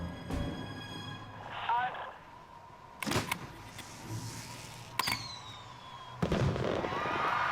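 A fireworks shell is fired using a single 9-volt battery cell at an outdoor pyrotechnics setup, giving sharp bangs and whooshing bursts at intervals, with people talking nearby.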